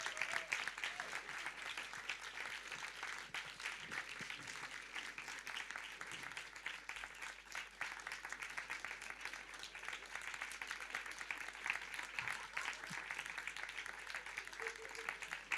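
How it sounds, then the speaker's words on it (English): Sustained audience applause at a conference welcoming Spain's second Deputy Prime Minister, a long even roll of many hands clapping continuously, distant and soft, with faint murmurs underneath. "You have to keep applauding until she..."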